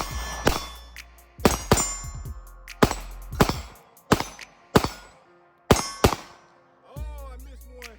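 Glock 19 pistol shots ringing off steel targets, about ten loud, sharp reports, each followed by a metallic clang, spaced roughly half a second to a second apart, close by and with no talking.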